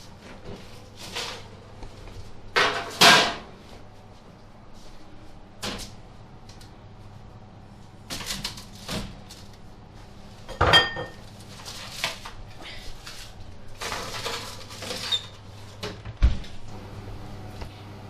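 An oven door opens and shuts with clattering knocks and clunks as deep-filled steak pies go into a 200-degree oven, sharp isolated thuds spaced across a quiet kitchen with low background hum.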